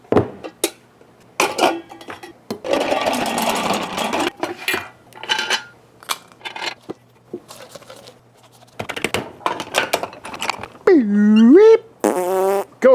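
Wet, squelching and slapping sounds of hands mixing and folding shredded cheese into ground sausage meat for taco sausage, irregular bursts close up, with some clinks and a few sharp squeaky noises near the end.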